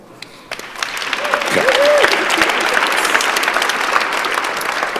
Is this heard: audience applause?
yes